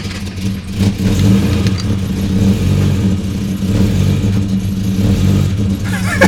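A Ford Falcon EF XR6 inline-six on a cold start, running with a steady loud rumble and mild rises in revs, with a brief voice over it.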